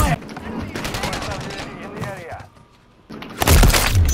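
Rapid bursts of gunfire from a sniper-focused military video game ring out repeatedly, loud and sharp, mixed with game voice callouts and player chatter before a brief lull and a heavy final blast.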